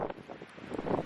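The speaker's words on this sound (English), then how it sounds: "The view here was incredible, as was the wind." Gusty wind blowing on the Oregon coast: a brief burst of low rumbling buffeting against the microphone, moderately loud.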